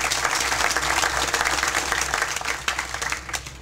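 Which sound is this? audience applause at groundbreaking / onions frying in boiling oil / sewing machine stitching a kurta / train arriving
audience applause at groundbreaking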